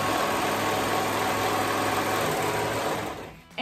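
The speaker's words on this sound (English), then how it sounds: "I am gonna let my serger go a little bit" A serger sewing machine runs steadily at close range with a continuous high mechanical whir, then winds down and stops near the end.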